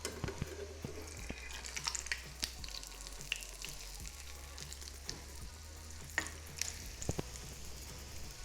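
An aloo tikki veggie patty fries in hot oil with a soft, continuous sizzle, punctuated by occasional nearby pops and light clicks of a utensil.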